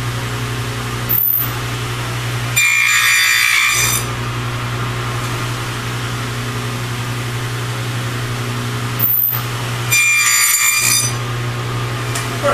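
A table saw set to width cuts box joint slots in inexpensive wood for hinges, two short bursts of blade cutting rising over a steady motor hum, each pass lasting about a second.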